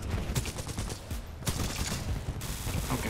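Rapid gunfire from a weapon in Titanfall 2, dense overlapping shots and bursts filling the whole stretch, loud and continuous with a few sharper cracks, no talking.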